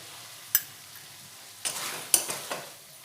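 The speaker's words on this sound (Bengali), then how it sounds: "দিয়ে খুব ভালোভাবে কিছুক্ষণ নেড়ে নেব" A spoon stirs a potato and cauliflower curry in a pan over a faint simmer, with a sharp clink early on, then a few scraping strokes and taps against the metal.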